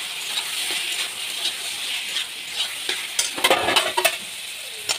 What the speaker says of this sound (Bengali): তরকারিটা একবার লেগে দিচ্ছি